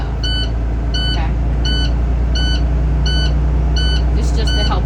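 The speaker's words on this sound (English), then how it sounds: "Once the warning light goes out and the buzzer goes off" A school bus air pressure warning buzzer repeats in a steady series of short evenly spaced electronic beeps over the loud constant rumble of an idling diesel engine.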